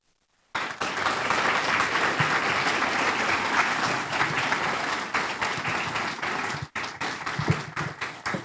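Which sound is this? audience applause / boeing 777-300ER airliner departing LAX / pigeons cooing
audience applause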